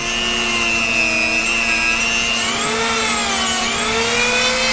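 A power carving tool cuts along a line in wood, giving a continuous high whine with shifting pitch as it bites, loud and close with no talking.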